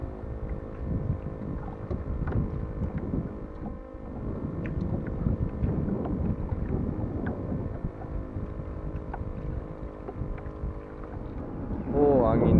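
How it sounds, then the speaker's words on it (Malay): Wind gusting on the open sea during kayak fishing off Pulau Bunting, Malaysia, a steady buffeting rush against the microphone with water sounds and someone talking. "Angin pun mula datang."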